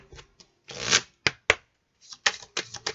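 Oracle cards of a transformation deck being shuffled by hand in a series of papery riffles and quick flutters, some bursts longer and louder, close and alone without speech.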